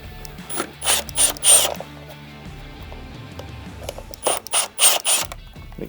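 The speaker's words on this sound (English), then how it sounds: "You're going to use your T25 Torx Bit to remove that." Ratchet driver with a T25 Torx bit backing screws out of a Herman Miller Aeron chair arm pad, two close clusters of rapid clicking separated by a quiet pause.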